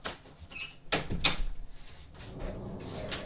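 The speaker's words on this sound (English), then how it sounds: "I'm going to close my door real quick." A home door is shut in a couple of quick knocks and thuds, followed by a short rattling clatter and then quieter rustling, close by in a room.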